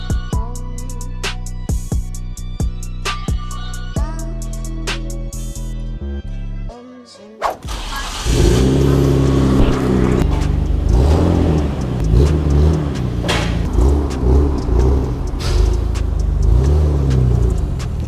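A Nissan Skyline R34 GTR with a louder exhaust is started and revved. Tonal beeping and clicks come first, then a brief cranking and the engine catches into a loud, rumbling idle with repeated rising revs.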